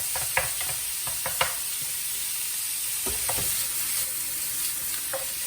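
Beef sizzles steadily in a hot pan for a Korean beef meal-prep lunch, with several sharp scrapes and clicks of a utensil stirring it through the frying.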